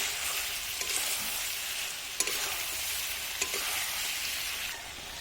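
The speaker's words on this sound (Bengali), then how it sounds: "আমি পেঁয়াজ দিয়ে কিছুক্ষণ ধরে কষিয়ে নিয়ে আছি, কাঁচা পেঁয়াজের গন্ধটা চলে গেছে, তাই আমি দিয়ে দিচ্ছি এবার মশলাটা।" Onions frying and sizzling in a pan with a paste of ginger, garlic, green chili and cumin, a steady close hiss with a few sharp stirring clicks and scrapes.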